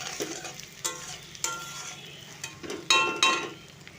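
Jackfruit curry ingredients sizzle in a hot pan with sharp scraping stirs; several distinct strokes and a couple of brighter clinks of utensil on metal over a steady frying hiss, close up with no talking.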